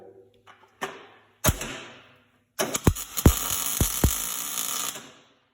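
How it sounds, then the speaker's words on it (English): Tack welding metal in a workshop: a few short crackling bursts and sharp pops, then a longer sizzling weld with several snaps, close by and fading out at the end. "Now what we're going to do is lay a little tack weld here."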